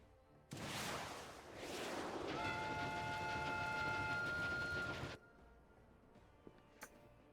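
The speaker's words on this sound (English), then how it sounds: "I shall stop this runaway wolf train!" A runaway train in Final Fantasy XIV rushes past with a loud, steady rumbling roar and a sustained whistle-like tone, then cuts off abruptly, leaving faint clicks.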